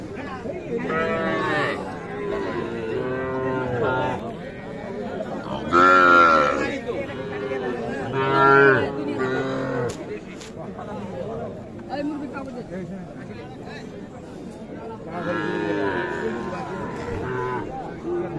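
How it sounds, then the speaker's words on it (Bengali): Calves low repeatedly at a cattle market, with several moos rising above a steady murmur of people talking and general crowd chatter at a busy outdoor gathering. "দেখছেন এই যে ছোট ছোট বাছুর মোটামুটি আমদানি কিন্তু ভালোই আছে"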